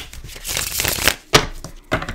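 Tarot cards being shuffled by hand, heard as a run of papery riffles and crisp snapping slaps that build and then break off in a few separate bursts, close and alone.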